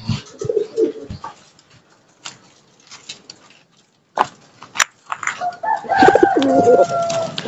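Soft coos from young squab pigeons come in short, low murmurs, growing busier and louder toward the end with rustling and flapping-like movement.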